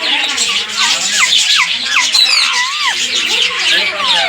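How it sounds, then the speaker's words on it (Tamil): Rose-ringed parakeets at the Kurumbapatti zoo in Salem squawk loudly and close by, a rapid string of shrill, overlapping calls and chirps with no pause. "செவ்வளைய கழுத்து கிளிகள் அப்படி சொல்லியிருக்கு"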